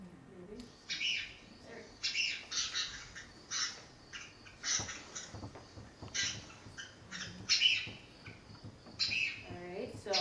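A turkey vulture's calls, short bright chirps and squawks recurring in irregular bursts, close and moderately loud, with faint voices murmuring underneath.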